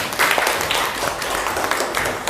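A classroom group claps briefly at a coding and artificial intelligence training session, a short patter of scattered hands.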